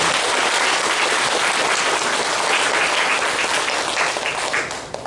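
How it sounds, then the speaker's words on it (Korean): A church congregation applauds the choir after a Sunday worship service, with loud, sustained clapping filling the room that holds steady and tapers slightly at the end. "오늘은 찬양을 해주신 우리 성가대를 위해서도 큰 감사의 박수를 부탁드리겠습니다"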